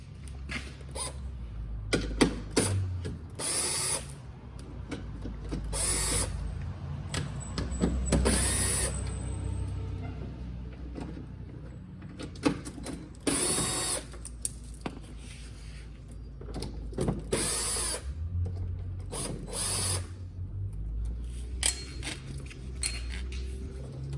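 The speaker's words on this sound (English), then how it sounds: "I'd encourage a battery powered ratchet if you have one." Battery-powered ratchet backing out 10mm bolts on a Porsche Cayenne 3.6 V6 during an oil change, heard as repeated short whirring bursts separated by pauses and clicks of the tool, close and fairly loud.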